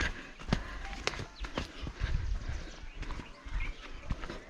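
Goats grazing at Rushi Khora, Wazar, Buldhana: scattered hoof clicks and shuffling steps on hard ground, irregular and fairly close, over a low outdoor rumble.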